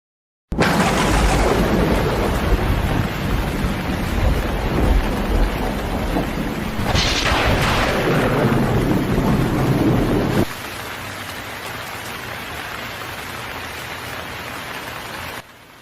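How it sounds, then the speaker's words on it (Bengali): Heavy rain with thunder pours down in a loud, steady roar, with a deeper rumble swelling partway through before the downpour eases to a lighter, steady patter. "বৃষ্টি তো খুব জোরে নামছে"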